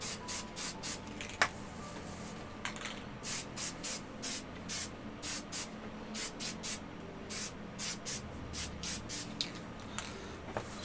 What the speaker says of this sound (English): I'm going to quickly give it a blast with the sealer.